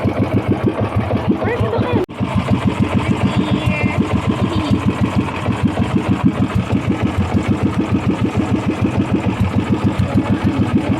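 A boat's motor chugs steadily with a fast, even pulse throughout, close and fairly loud, with a brief sharp knock near the start.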